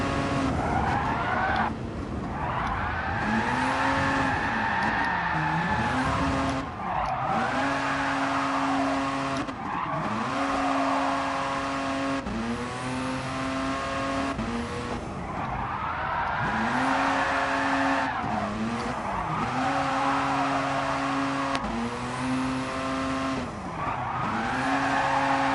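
A turbocharged race car in Gran Turismo Sport drones with a gruff, diesel-like engine, its pitch rising and falling in repeated revving sweeps while tires squeal through skids.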